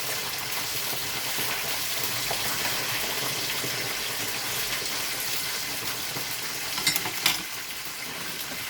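Continuous crackling sizzle of spring rolls frying in hot oil, one of them split open, with a couple of sharper pops near the end.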